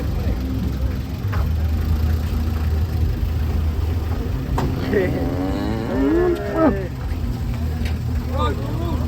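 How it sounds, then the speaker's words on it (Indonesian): A black cow lets out a long, drawn-out moo while being unloaded from a truck, over a steady engine hum, with faint voices and another brief low call near the end. "datang sapi hitam"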